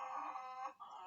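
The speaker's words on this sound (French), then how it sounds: "chez moi il y a des poules, des animaux, des faisans, des perdrix." Domestic chickens clucking in a French countryside yard, a steady, fairly close layer of warbling hen calls that runs on with a brief dip before resuming.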